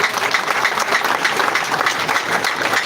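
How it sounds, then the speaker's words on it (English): Crowd at a Bobi Wine political rally claps continuously, a dense, even wash of applause filling the whole stretch with no talking over it. "Please clap for yourself."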